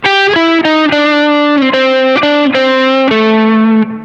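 A distorted electric guitar plays a blues scale lick at full speed, a quick run of sustained, saturated notes stepping down in pitch with sharp attacks, loud and close with no talking.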